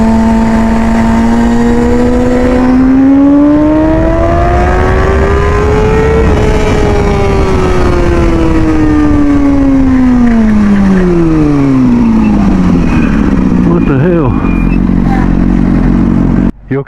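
Motorcycles ride the Tail of the Dragon, a twisting mountain road, their engines revving hard close by, rising and falling in pitch through the bends, then dropping away with a sharp clatter at the end.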